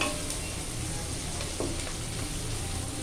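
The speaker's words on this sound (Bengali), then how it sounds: "অন্যান্য উপকরণগুলো তেলে ভেজে নেব।" Onion and other ingredients frying in oil for a Mughlai chicken curry, a steady close sizzle with faint stirring running through the clip without talk.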